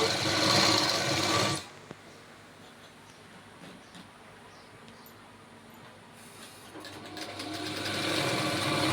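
Sewing machine stitching blouse fabric, a steady close whir that runs loud at first, drops out briefly, then builds again toward the end.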